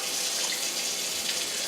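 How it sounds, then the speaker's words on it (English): Hot water runs steadily from a kitchen tap, a continuous close hiss and splash into a sink with no break. "add some hot water to it"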